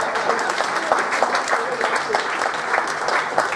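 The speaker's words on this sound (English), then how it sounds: "Round of applause, thank you very much." Audience applause at a company's tenth anniversary apprentice challenge event, a steady dense wash of many hands clapping that carries on evenly throughout, with a voice faintly over it.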